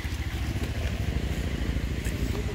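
A motorbike rides along an unpaved dirt track through forest in Gariyaband, Chhattisgarh, its engine droning fairly quietly with uneven bumps and crackle from the rough ground.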